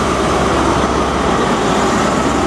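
East Coast HST power car 43314 at Doncaster station, bound for London King's Cross, gives a loud, steady diesel rumble and rail noise close by, with no break.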